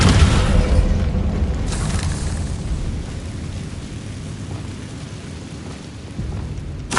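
Descendo spell impact in Hogwarts Legacy, a deep booming crash up front that decays into a rumbling, crumbling tail with a smaller burst near the end.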